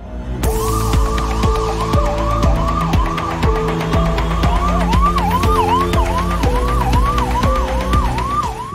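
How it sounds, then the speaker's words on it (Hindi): An ambulance siren wails loudly and continuously in repeating rising-and-falling sweeps, close and alone with no voices. "खुशियों की जगह एम्बुलेंस के सायरन की आवाज गूंजने लगी"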